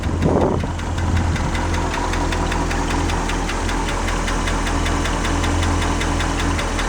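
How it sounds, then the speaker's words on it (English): An International 345 V8 idles nearby with a lifter tick, a steady, loud low engine rumble carrying a fast, even metallic ticking throughout. "Sounds like a lifter."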